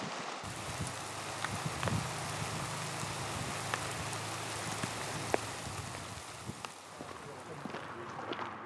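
Steady outdoor rainfall pattering on surfaces, with scattered individual drops standing out from the continuous wash of sound from start to finish.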